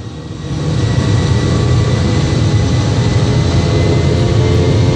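Airliner jet engines throttle up for takeoff from Detroit, a loud steady roar that builds over the first second and then holds strong and constant, heard from inside the cabin.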